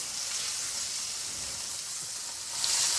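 Chicken breast sears in hot oil in a pan, giving a steady, close hiss of crackling fat that swells slightly louder near the end, with no talking.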